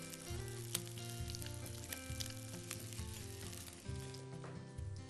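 Food frying in a pan while cooking, with a steady, continuous sizzle running throughout at moderate loudness alongside a faint tonal background and no talking.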